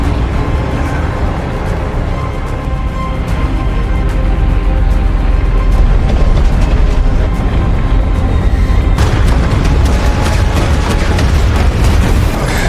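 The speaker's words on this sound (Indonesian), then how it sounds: "Sayangnya, ledakan yang dihasilkan begitu besar hingga menghantam truk tersebut" A huge bomb explosion roars as a loud, sustained rumbling blast, heavy low-end boom and crackling debris continuing throughout without pause, no voices present.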